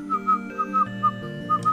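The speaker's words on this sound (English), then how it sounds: "Stop whistling." Repeated short whistled notes in a steady melodic pattern, a game character in Garry's Mod whistling, moderately loud with no talk over it.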